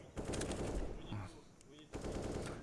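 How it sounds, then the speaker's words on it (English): Rapid automatic sniper rifle fire in a Counter-Strike esports match, sharp repeated shots in bursts across the clip, with a short pause midway and commentators' voices mixed faintly underneath. "Rops has an auto sniper."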